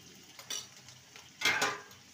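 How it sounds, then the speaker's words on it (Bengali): Spices sautéing in a pan for a vegetarian radish dish, a faint low sizzle broken by two brief scraping stirs of a spatula against the pan, the second louder. "ভালো করে সমস্ত মশলা কষিয়ে নেব।"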